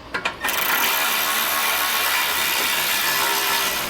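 A few sharp ratcheting clicks, then a steady, loud mechanical whirring and grinding close by, as a ratchet tightens bolts on a hidden trailer hitch on a 2016 Volkswagen.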